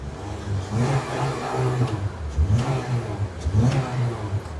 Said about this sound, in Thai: ขออนุญาตเล่นเครื่องฟังสักเล็กน้อยครับ ฟังเสียงเครื่องยนต์กัน